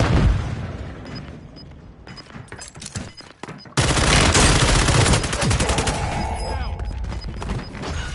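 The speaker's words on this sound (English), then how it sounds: "Throwing a stun grenade" Call of Duty stun grenade goes off with a loud, abrupt blast partway through, followed by sustained heavy gunfire and rattling bursts; before it, scattered shots and game noise under faint voices.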